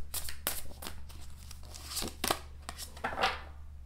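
Tarot cards shuffled by hand, a run of quick papery riffles and soft slaps in irregular bursts, close and fairly quiet, with no talk.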